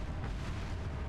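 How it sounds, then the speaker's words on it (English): A flask grenade detonates in the video game Resident Evil 4, a heavy low rumbling blast that rolls on through the whole second without a sharp onset. "Let's go ahead and use the flask grenade."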